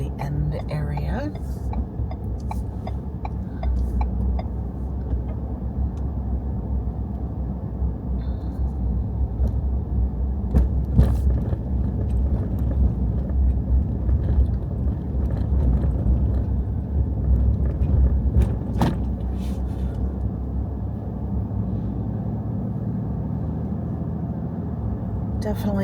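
A car travels south on a road out of Jasper through fire-damaged country, with a constant low rumble of road and engine noise inside the cabin throughout.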